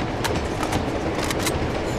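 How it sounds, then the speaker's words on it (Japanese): A train rolls along in the Uncharted video game, a rumbling low roar with regular clattering clicks from the wheels, close and steady. "この列車永遠に走ってる。"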